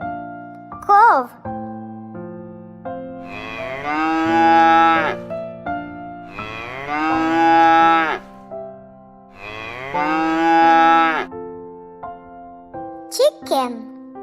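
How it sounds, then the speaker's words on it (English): Cow mooing in three long, loud, drawn-out moos spaced evenly over gentle background music, with brief voice-like calls at the start and end. "Cow."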